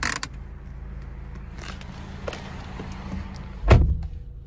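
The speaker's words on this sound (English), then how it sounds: "The emergency brake." Parking brake of a 2011 Acura TSX SportWagon being worked inside the car, heard as soft mechanical clicks and creaks followed by a louder thud near the end, close and with no talk.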